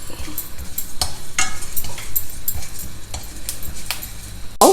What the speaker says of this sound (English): Now dry roast all these well